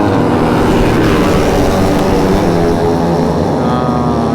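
Superbikes thunder along the MMRT race track, a loud, continuous close engine roar with rising and falling pitch filling the whole moment, with no speech.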